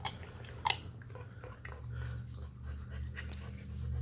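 A ten-week-old puppy chews raw chicken wings, with soft close crunching and gnawing, a sharp snap early on, and low panting underneath.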